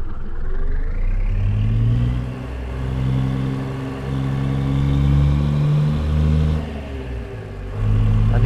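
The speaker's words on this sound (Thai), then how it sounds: "โอ้เสียงเครื่องดังเอาเรื่องเลย" A semi-trailer truck engine revs loudly with a deep, rumbling drone, its pitch rising and falling in several swells as it idles and accelerates up close.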